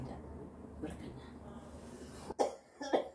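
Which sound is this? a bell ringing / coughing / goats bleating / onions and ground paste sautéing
coughing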